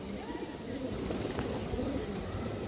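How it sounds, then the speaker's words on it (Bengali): A green-necked female pigeon coos softly and low amid a faint, steady background murmur, the calls blending into a continuous quiet texture. "আর একটা সবুজ গলা মাদি কৌতর আছে দর্শক"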